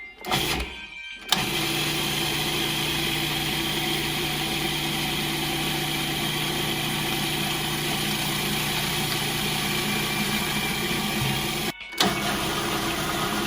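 A Cuisinart food processor motor hums steadily and loudly after switching on, with vinegar drizzled in, running for over ten seconds with a brief cut near the end before resuming.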